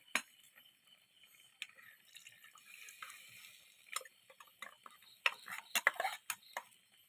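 Ground roasted coconut paste goes into a simmering fish curry in a pot, with faint scraping and a scatter of sharp spoon clinks against the pot that grow busier toward the end.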